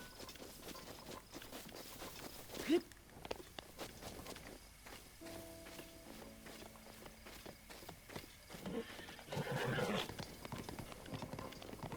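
Horse hooves in Zelda: Breath of the Wild, quiet rhythmic clip-clop of galloping with a brief louder thud, while a voice talks over parts of it; no clear neigh stands out.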